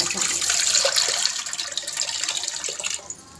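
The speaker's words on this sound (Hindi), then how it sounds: "ये मैं ठंडा बर्फ़ वाला पानी डाल रही हूँ इसमें" Ice-cold water pours into a shikanji lemon drink in a home kitchen, a steady splashing, gurgling stream that stays loud and close for a few seconds before easing off.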